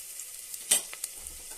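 Crushed garlic sautéing in oil for a fish head kuzhambu, with a faint, steady sizzle, one brief metallic scrape of a spoon and a couple of softer stirs, and no voices.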